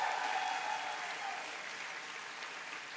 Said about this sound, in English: And now you can give a big cheer.